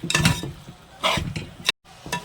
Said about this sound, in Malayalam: ഇനി വെളുത്തുള്ളി നമ്മുടെ ബീഫായിട്ട് നന്നായിട്ട് യോജിച്ച് വരട്ടെ അതുവരെ നമുക്ക് ഇടയ്ക്കിടയ്ക്ക് ഇളക്കിക്കൊണ്ടിരിക്കാം